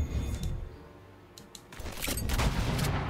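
Ranged units shooting in the video game Age of Wonders 4: a dense volley of cracking shots and booming impacts layered over a steady rumbling game backdrop, swelling louder toward the end.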